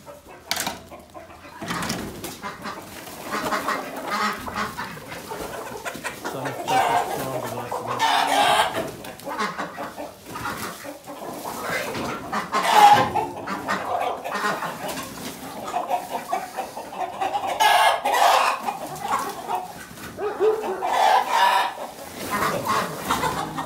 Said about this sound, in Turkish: Tavuklar geldi.